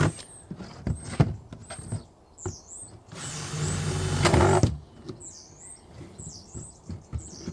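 A power drill bores into horse chestnut conkers, whirring steadily for about a second and a half, a rising mechanical grind, with quieter clicks and small knocks before and after.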